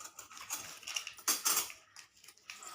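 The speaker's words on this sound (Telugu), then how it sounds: "ఆయిల్ బాండి పెట్టి ఆయిల్ వేసి" A pan is set on a stove and oil poured in for a Kakinada-style bean seed curry, heard as scattered metallic clinks and clatters of cookware with a brief louder clank midway, no talking.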